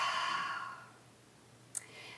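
A deep, slow breath out during a yoga exercise, a soft airy exhale fading away, followed by a brief small click near the end.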